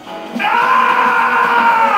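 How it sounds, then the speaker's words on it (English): Sonic the werehog's loud, drawn-out death scream from the video game Sonic Unleashed, a single sustained howl that starts abruptly and holds strongly for about two seconds. "am I the only one who thinks Sonic's death scream as the Warhog is completely over the top"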